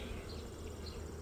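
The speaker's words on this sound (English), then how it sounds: "I'll blow on these bees a little bit." Honeybees from an early spring split buzz steadily around a hive frame being searched for queen cells, a close, continuous insect drone with no talking.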